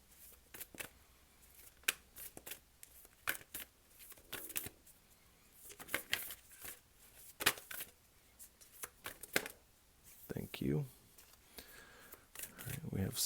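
Tarot cards being shuffled and drawn, heard as repeated close riffling flicks and soft snaps in uneven bursts; a voice speaks at times between the shuffles.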